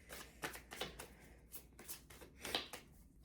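Tarot cards being shuffled by hand, a series of soft, quick riffling and flicking bursts in an uneven rhythm, close and fairly quiet with no voices.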